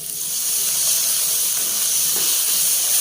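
Vinegar poured into a hot wok of chicken Manchurian, a loud, continuous steam hiss that stays steady and close for the whole stretch.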